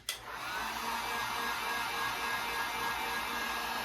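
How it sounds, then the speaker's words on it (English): A heat gun dries freshly applied paint in a one-step paint transformation, giving off a loud, steady blowing whir that starts abruptly and holds unbroken at close range, with no talking. "You don't have to hit it with a heat gun. I'm doing that"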